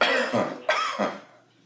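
Three harsh coughs in quick succession, loud and close, the last one trailing off into a breathy fade.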